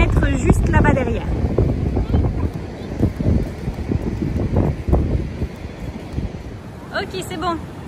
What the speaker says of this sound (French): Il y a beaucoup trop de vent ici et du coup, plein de sable dans le gâteau